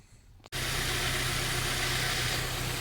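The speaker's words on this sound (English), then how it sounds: "And the power steering pump is working." Chevy Cavalier engine with a working power steering pump: after a brief quiet moment, a steady, even idle hum starts abruptly and holds at constant level nearby.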